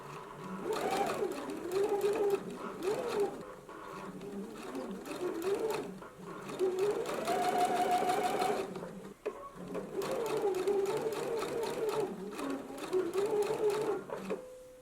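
A sewing machine runs steadily for most of the stretch, stitching a seam on a gingham dress, with a continuous whirring drone, brief pauses around nine seconds, and a faint voice underneath.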